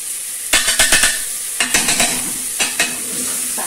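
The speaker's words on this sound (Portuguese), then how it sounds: "Eu vou deixar fritar um pouquinho esse alho" Garlic, onion and bell pepper fry in a pan with a constant sizzle, broken by a series of sharp scraping stirs as a utensil works the pan up close; no one speaks.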